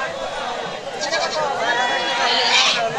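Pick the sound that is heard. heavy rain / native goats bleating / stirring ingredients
native goats bleating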